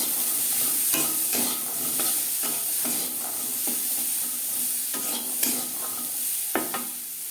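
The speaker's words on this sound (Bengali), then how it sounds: "লবণ হলুদ দিয়ে মটরশুঁটি ভেজে নেব" Green peas frying with salt and turmeric in a hot pan for a Bengali pea-shoot stir-fry, giving a steady close sizzle with repeated scraping stir strokes throughout and no talking.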